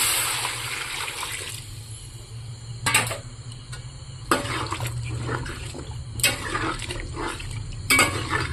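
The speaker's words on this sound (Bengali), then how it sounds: "এবার এর মধ্যে আমি পরিমাণ মতো জল দিয়ে দেবো।" Water is poured into cooked spice masala in a pan, a rushing splash at first, followed by a steady low hum and several sharp metallic clanks of utensils against the pan.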